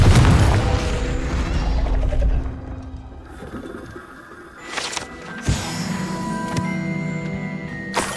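A Confringo spell explosion in Hogwarts Legacy opens with a heavy, loud boom that fades, followed later by a sharp crack and a fainter rumbling tail, with no talking.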